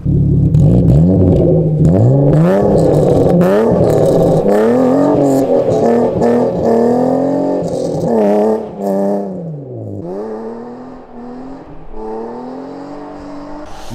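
A BMW E36 drives and accelerates, its engine loud and close, rising in pitch through several revs with brief dips between gears, no voices.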